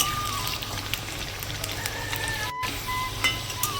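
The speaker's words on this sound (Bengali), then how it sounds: "আলুগুলো আমি লাল করে ভেজে নেব" Potatoes fry in hot oil with a continuous crackling sizzle close by, with faint scattered pops and a brief dropout near the end; no talking.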